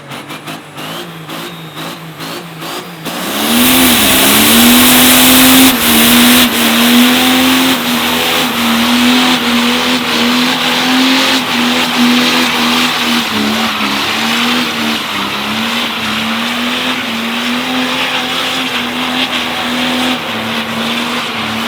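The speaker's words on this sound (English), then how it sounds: "So we're gonna do a burnout." A 1177 HP Cummins diesel truck does a burnout: after a short idle, the engine roars to a loud, sustained high-revving drone with tire squeal, holding steady and close for about twenty seconds.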